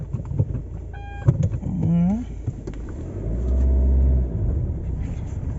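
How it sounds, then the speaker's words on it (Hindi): A Hyundai Creta turns around on a hill, its engine giving a low rumble that swells for a second or so amid shifting mechanical noise, with a brief voice heard early on. "मैं एक बार गाड़ी टर्न अराउंड करता हूँ।"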